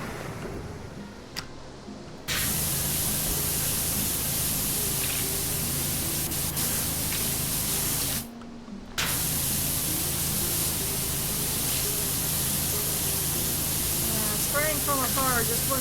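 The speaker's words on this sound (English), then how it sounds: "Spraying from afar just wasn't good enough for these things." Pressure washer spraying in the PowerWash Simulator video game, a loud steady hiss that cuts out briefly twice and resumes, with faint voice-like sounds underneath.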